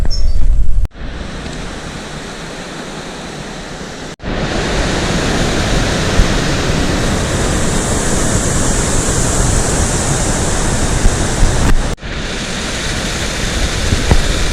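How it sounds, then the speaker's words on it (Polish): Steady, loud rushing of a waterfall along the Kallaritikos trek in Greece, a broad continuous roar with a few brief cuts and no talking. "Oglądamy sobie wodospady"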